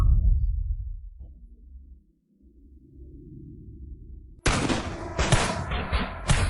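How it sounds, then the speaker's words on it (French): A volley of guns fired together, a sudden loud burst of overlapping shots and crackling blasts after a quieter stretch of low rumbling. "Les gars, chargez et tirez ensemble."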